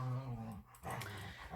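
Dogs growl low and close in a short burst, with a brief break before rumbling again.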